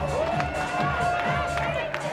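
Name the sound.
home crowd cheering a home run at a baseball game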